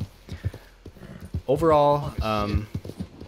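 Hooves of a gray Kentucky Saddler horse clip-clop while it is ridden in Red Dead Redemption 2, a steady rhythmic trot under a voice that talks over most of the clip.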